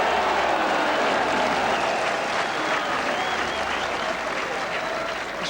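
A large crowd at the Waterloo applauds warmly during a 1983 Champion of Champions bowls match, the steady clapping filling the room while a commentator talks over it.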